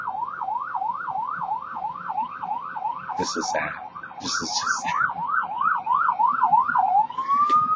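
A loud siren wails in a rapid, regular rise-and-fall pattern throughout, with a person speaking briefly over it before the tone sweeps upward.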